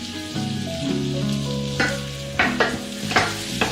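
Pecan pieces sizzle in butter in a pan and are stirred, making a close, steady frying hiss with scraping stir strokes that get sharper toward the end.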